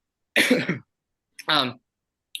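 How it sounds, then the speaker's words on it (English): Two separate close bursts, a rough cough followed by a short throaty sound, with brief silence between and a tiny click at the end. "He inhales, a cough."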